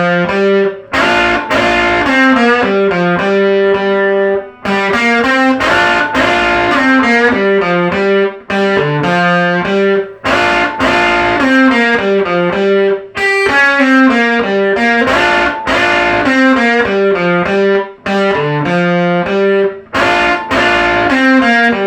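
Distorted electric guitar plays a lick in repeated rounds. Bright, driving picked phrases follow a steady rhythm, loud and alone, with brief gaps between passes.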